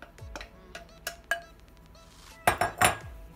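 A spoon stirs ingredients in a pot while preparing a Thanksgiving meal, with a series of sharp metallic clinks and scrapes, scattered at first and then bunched into a louder flurry near the end.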